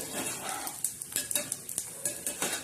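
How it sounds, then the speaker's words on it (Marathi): Bombil (Bombay duck) fish frying crisp in a pan, a close, steady oil sizzle broken by repeated clinks and scrapes of a spatula turning the pieces. "बोंबील जसे लालसर होता आणि चांगले कुरकुरीत तळताना तर खायला एकदम टेस्ट येते"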